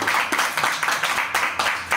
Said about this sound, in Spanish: pido para ellos, porque estoy segura de que va a valer la pena escucharlos, en un acto de confianza, un aplauso antes de oírlos